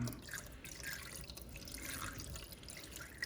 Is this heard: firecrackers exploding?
no